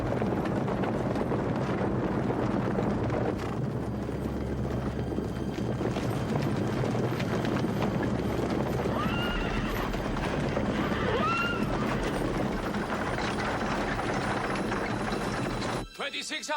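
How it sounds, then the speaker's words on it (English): Australian light horse cavalry advancing across desert terrain in a 1987 war film, hooves clip-clopping steadily amid wind and rumbling background, with horses whinnying and a voice speaking over the scene. "Australian light horse advancing on eastern defences. They seem to be deploying to charge."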